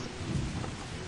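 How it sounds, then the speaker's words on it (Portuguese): Rain with rumbling thunder in the dinosaur park game Jurassic World Evolution, a steady low roar and hiss of a storm filling the moment without pause. "Chovendo ainda."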